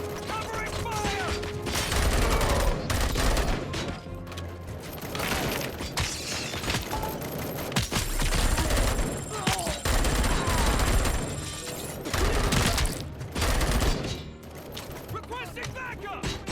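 Gunfire in the Robocop: Rogue City video game, dense bursts of rapid shots and mechanical clatter across the whole stretch, loud and continuous, with voices calling out in the mix.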